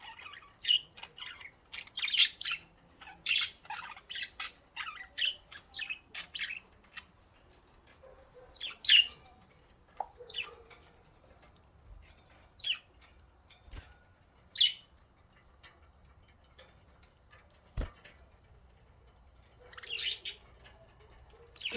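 Pet budgies chirping, squawking and singing in their cage after a shower, a lively run of short, bright, close calls in bursts with brief pauses, with no talking.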